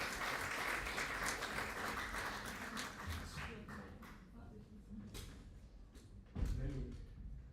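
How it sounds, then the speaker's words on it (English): Applause from guests at a peace forum gathering greets a speaker from the City of Luxembourg, a steady broad wash of clapping that thins out midway, with voices and a thump near the end. "Can I have a round of applause"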